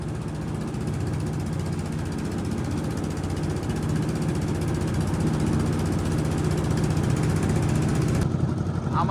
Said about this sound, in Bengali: আমাদের নৌকাটা আস্তে আস্তে যাচ্ছে।